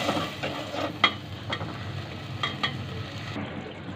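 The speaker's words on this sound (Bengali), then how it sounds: "মশলাটাকে ভালো করে কষিয়ে নেব।" Ground spices such as coriander powder with salt frying in oil in a pan for a Bengali rohu fish curry, stirred with a spoon: a soft, steady sizzle with occasional light scrapes and clicks, close and fairly quiet.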